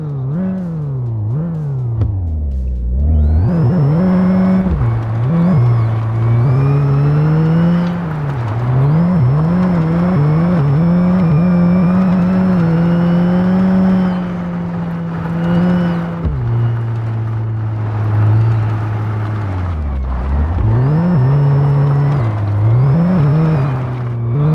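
A turbocharged race car engine in the game My Garage revs and climbs through the gears, loud and close, with drops at each shift, turbo whine and steady high-pitched whir throughout.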